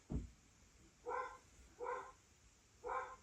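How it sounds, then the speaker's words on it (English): A dog barks three times at a steady spacing, moderately close, with quiet background and no talking. "You hear my dog probably barking."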